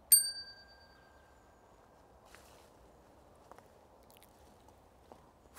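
A small bell set down in St. Margaret's Graveyard gives a single bright ding that rings out and decays over about a second, followed by a few faint, scattered taps in otherwise quiet surroundings.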